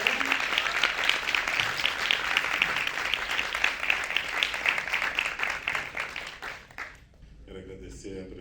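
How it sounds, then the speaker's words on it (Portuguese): Steady applause from a crowd, continuous clapping that fades out near the end, with a brief voice afterward. "Quero pedir de vocês os aplausos para essa mesa."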